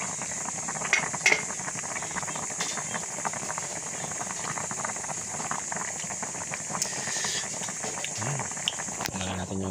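Sinigang sa kamias broth boiling in a pot, a steady bubbling simmer with soft patter and hiss running continuously at moderate level, with a few faint clinks.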